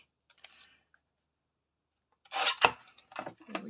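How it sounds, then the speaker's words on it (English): A paper trimmer slices off the edge of a book page to leave a straight line, giving one sharp rasping cut with a few quieter scraping and clicking follow-ups, close and alone after faint handling noises. "I will use my trimmer for that"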